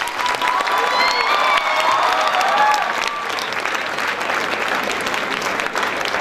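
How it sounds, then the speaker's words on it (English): An audience at an engineering event applauds steadily for a retired professor, a dense, sustained clapping with some cheering and a few raised voices over it, fading slightly toward the end. "Please give him a huge round of applause"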